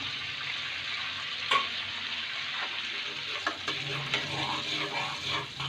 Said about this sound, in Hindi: तो थोड़ा सा चलाएंगे हम। ये देखिए, हमने कड़ी पत्तों को सौते कर लिया थोड़ा सा।